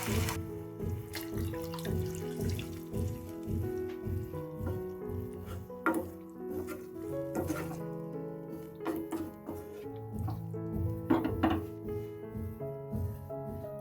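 Two cups of water are poured from a cup into a pan while making ragi muddha: a steady splashing, trickling stream runs close by for the whole stretch, with a few clinks of the vessel and no talking.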